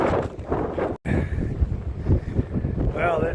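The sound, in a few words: strong wind blowing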